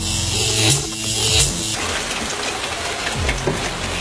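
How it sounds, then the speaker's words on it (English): Rain patters steadily during electric car charging, with a brief mechanical clicking and buzzing of the charging equipment at the start before the rainfall continues alone. "It's still raining, although it has let up slightly."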